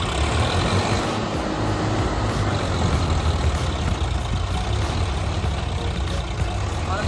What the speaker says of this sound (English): the Swaraj 744 FE is straining at full power to perform its rescue mission